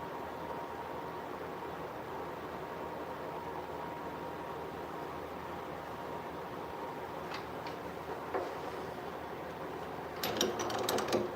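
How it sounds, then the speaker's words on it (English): A drill bores a mandrel hole in a shaving brush handle, giving a faint, steady motor whir with a few light clicks and a brief rougher burst near the end. "let's get that mandrel hole drilled"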